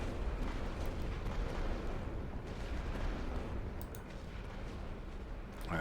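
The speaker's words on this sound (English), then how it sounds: "Oh, he's firing artillery." Artillery fire in The Great War: Western Front, a continuous rumbling roar of distant shelling with dull booms blending into a broad, steady wash of noise.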